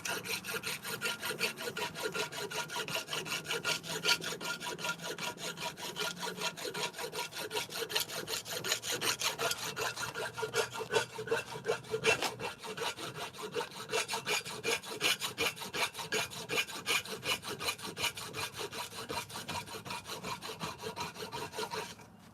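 A hole being bored through solid steel, giving a continuous harsh grinding rasp that holds steady and close for the whole stretch, with no voices.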